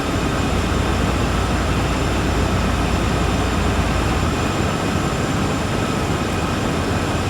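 A heavy train climbs uphill out of Cheyenne in Train Sim World 4, a dense, constant rumbling roar of engine and rolling wheels that stays loud and unchanging throughout.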